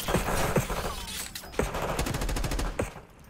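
Gunfire from the Call of Duty: Black Ops 6 video game comes as loud, rapid automatic bursts and single shots, continuing steadily for several seconds.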